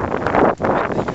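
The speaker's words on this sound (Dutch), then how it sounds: "Het waait een beetje behoorlijk." Strong wind buffets the microphone outdoors on a sunny day, a loud continuous roar with one brief lull partway through.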